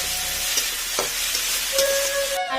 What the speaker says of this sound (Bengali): জিরার গুঁড়ো দিয়ে দিলাম আর একটু লঙ্কার গুঁড়ো তো এটাকে ভালো করে এখন অনেকটা টাইম ভাজতে হবে